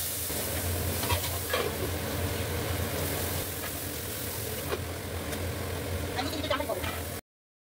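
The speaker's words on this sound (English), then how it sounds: "Now I'm going to add the onion." Onion tipped into a hot pan and stirred, giving a steady sizzle with scraping and clinks of a spoon for several seconds before cutting off abruptly.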